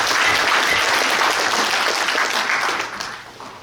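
Delegates at a Gyeongju branch union delegates' convention applaud to pass an agenda item, a dense, steady crowd clapping that fills the room and then tapers off toward the end.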